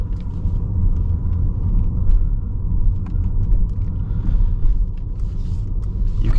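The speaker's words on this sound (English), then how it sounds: "let's set off and see what this is like to drive in the dark" Mercedes-Benz EQS 580 4MATIC electric car driving at night, a steady low road and tire rumble from inside the cabin with faint intermittent clicks and ticks, no voices.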